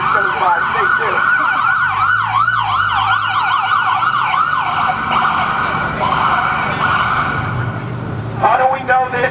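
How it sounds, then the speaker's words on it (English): An ambulance siren wails loud and close in a repeating up-and-down sweep as the vehicle passes a rally outside a statehouse, fading out near the end, with crowd noise and voices underneath. "We'll wait till this ambulance goes by."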